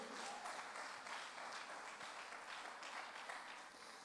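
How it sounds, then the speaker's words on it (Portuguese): Congregation in a church service clapping together in steady, sustained applause that stays fairly even and moderately loud through the whole stretch, with no voices standing out. "As palmas para Ele, aleluia."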